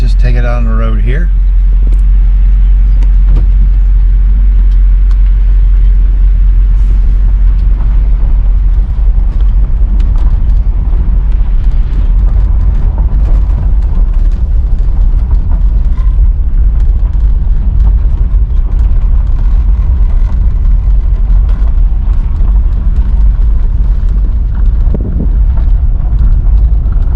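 A 1972 Mercedes-Benz 280SE 4.5 drives on the road, its engine and road noise a steady, loud low rumble throughout with wind buffeting at the microphone and talk over it.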